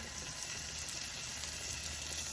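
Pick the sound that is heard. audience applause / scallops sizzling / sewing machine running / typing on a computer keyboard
scallops sizzling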